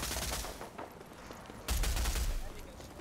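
A video game shotgun fires amid a loud crackle of gunfire, one heavy blast in the middle standing out and dying away, with a faint voice in the mix.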